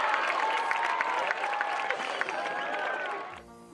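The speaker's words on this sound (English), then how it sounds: "make some noise for your Bear River Marching Band" Crowd in the stands at a high school football game, Bear River vs Green Canyon, cheering and clapping for the Bear River Marching Band, a steady broad roar with whistles that fades out near the end.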